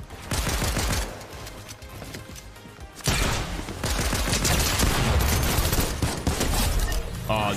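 Dense bursts of infantry rifle gunfire in Fortnite, rapid overlapping shots that run almost continuously, with a brief dip before heavier, sustained firing returns.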